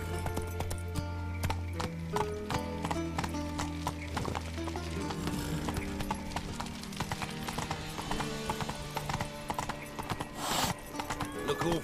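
A horse gallops in the video game The Witcher 3, its hooves pounding in a fast steady rhythm close by, with a whinny partway through and game music and ambience underneath.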